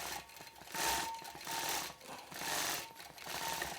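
A sewing machine stitches a crosshatch quilt at 15 stitches to the inch in repeated short bursts of rapid, buzzing whir, each lasting under a second with brief pauses between runs. The sound is close, with no talking.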